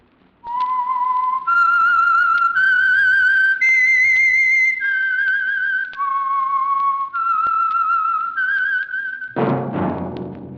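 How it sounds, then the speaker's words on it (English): A solo whistler performs the eerie theme signal of the Signal Oil radio mystery program, a sustained melodic line of about nine held notes rising and falling, loud and clear, followed by a brief burst of orchestral music. "That whistle is your signal for the Signal Oil Program, The Whistler."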